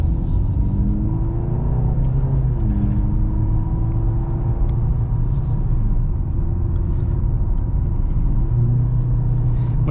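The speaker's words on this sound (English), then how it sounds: "Let's go ahead and take this C43 on a drive and see how it does." Steady engine hum and road rumble from inside a 2023 Mercedes-Benz C43 AMG with a 2.0-liter turbo engine on the move, loud and constant, with subtle pitch shifts as the engine changes speed and no voices.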